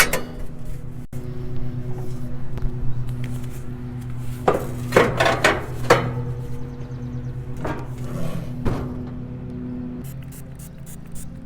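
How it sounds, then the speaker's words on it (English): Metal sear plates and grates are set back into a gas grill, with scraping and clanking bursts in the middle and a few sharp taps near the end over a low steady hum. "go ahead and reassemble it with the sear plates and the grates"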